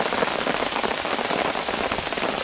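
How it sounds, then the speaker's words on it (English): Steady rain falling at a lake campsite during an overnight hammock camp, a dense, even patter on surfaces all around with no pauses and no voices. "It's just raining now."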